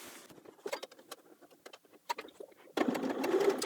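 A sewing machine stitches a pocket facing seam on work pants, about 1/8 inch from the stitch line, in short intermittent bursts before a louder, steadier run of stitching near the end.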